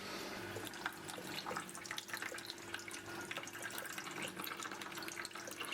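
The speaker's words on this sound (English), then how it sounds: "the sanitizer is going to come out through your purge valve and into your bucket" Sanitizer runs out of a purge valve into a bucket while a bottle is counter-pressure filled with CO2, giving a steady close trickle and splash of liquid with faint bubbling and no talk.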